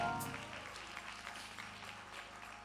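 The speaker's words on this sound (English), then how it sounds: "Clap your hands and give him glory" Congregation in a church service claps in praise, a faint, distant spread of applause over a low musical hum, steady and subdued throughout.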